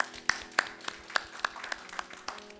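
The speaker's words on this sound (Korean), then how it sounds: "우리 그렇게 살아계신 하나님께 영광의 박수 올려드리고 가겠습니다." A church congregation claps together in a steady rhythm during a Korean Sunday service, sharp claps landing about three times a second over a soft room hum.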